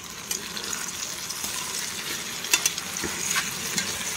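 A steady, soft sizzle of ginger frying in hot oil, with a few faint clicks and scrapes scattered through.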